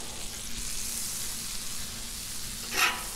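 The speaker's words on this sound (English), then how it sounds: "We're gonna get the hash browns going first right here." Hash browns frying in butter on a Blackstone flat-top griddle give a soft, even sizzle across the whole moment, with a short brighter scrape near the end.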